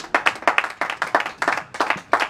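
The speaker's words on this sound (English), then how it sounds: "Round of applause to everyone, please." Crowd at a Watford family fun day claps in distinct, rhythmic bursts, several hands striking together in quick clusters with short gaps between, fairly close and free of talk.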